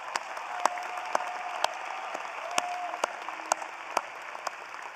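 Steady applause fills a commencement ceremony hall, an even wash of clapping from a large crowd with occasional sharper claps standing out.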